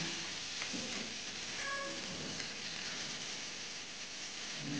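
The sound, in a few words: mint leaves frying in a pan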